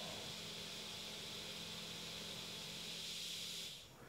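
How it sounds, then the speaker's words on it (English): A 3D printer's hot end cooling fan, fitted with a tachometer mod on a Klipper setup, gives off a steady, faint airy whir with a low hum, then winds down at the end. "we now have the hot end fan working and it's reading the RPM that it should"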